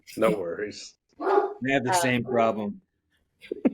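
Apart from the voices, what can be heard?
dog barking in the background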